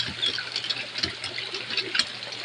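Water gushes hard in a strong, continuous rushing flow outdoors while rain falls, loud and near, with a few splashy surges and no talking.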